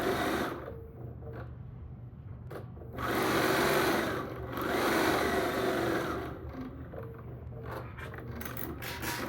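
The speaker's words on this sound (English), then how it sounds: "I'm going to go ahead, sew each of these." A sewing machine stitches rows of a quilt block in bursts, its motor whirring steadily through each run with short pauses between seams, close and alone without talk.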